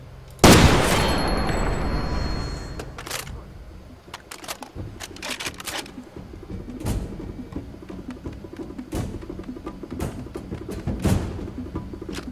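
Gunfire in the video game Far Cry 2: a loud burst of shots opens, followed by scattered sharp cracks and pops spread across the clip, with distant rumbling and light ambient noise in between.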